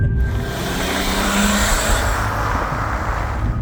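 A BMW E46 330d diesel car accelerates with a steady, loud engine roar heard from inside the cabin. The broadband drone stays constant and unbroken throughout, with low rumble and road noise underneath and no speech.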